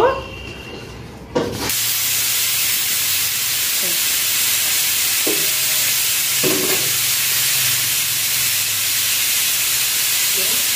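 A pressure cooker of mutton curry builds up to its whistle, releasing a loud, steady rush of steam that hisses continuously after a short quieter start, with a few faint clicks beneath it.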